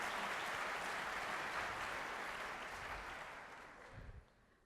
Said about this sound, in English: A very warm welcome, a very warm round of applause for our panelists